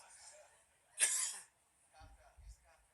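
One short, sharp cough bursts out close by, set among quiet, low murmurs of speech.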